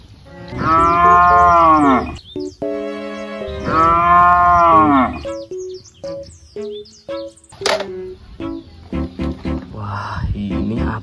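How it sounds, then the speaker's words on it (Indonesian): A buffalo gives two long, loud, close moos, followed by shorter broken lowing calls and faint chirping. "buffalo."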